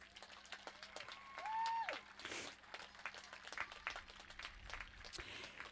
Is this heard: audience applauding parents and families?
yes